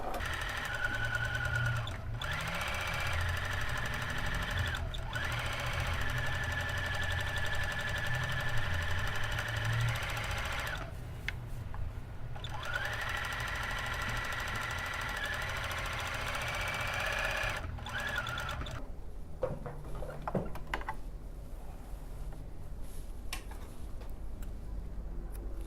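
A sewing machine stitches freehand couching embroidery in long steady runs of fast, close ticking, broken by several brief stops and ending in a quieter stretch of scattered clicks.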